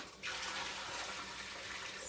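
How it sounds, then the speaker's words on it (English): Hot water from cooked fettuccine being poured off through a strainer in a kitchen, a soft steady rushing splash that begins abruptly and continues evenly, quiet and close. "I'm gonna go ahead and give it a quick strain."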